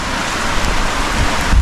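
Heavy rain pouring down beside a river during a fishing outing, a dense, loud, unbroken hiss with low rumbling wind buffeting the microphone, and a stronger gust near the end.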